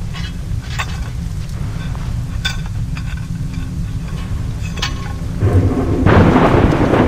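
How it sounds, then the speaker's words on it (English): Thunder rumbles steadily through a storm in the video game Assassin's Creed Rogue, with sharp lightning cracks flaring at intervals and a louder, swelling crash near the end over constant low rain-like noise. "I would not want to be standing that close to lightning striking."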